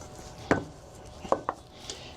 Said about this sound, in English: I am just mixing that up right now, kind of incorporating that seasoning into the butter